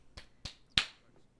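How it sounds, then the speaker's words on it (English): Sims clapping in The Sims 4: three sharp, separate claps in quick succession, each brighter and louder than the last, set against near silence. "Everybody clap."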